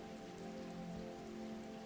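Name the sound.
rain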